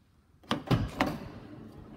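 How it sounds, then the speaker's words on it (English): Power sliding door on a 2024 Volkswagen Transporter T6.1 Highline Kombi opening, with three close, sharp mechanical clunks in quick succession followed by a brief fading hum of the motorised mechanism. "Show you the power door there opening."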